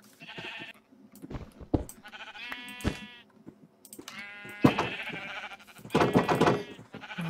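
Sheep in a video game bleat repeatedly while being sheared, several distinct, fairly loud calls separated by short gaps and soft clicking game sounds.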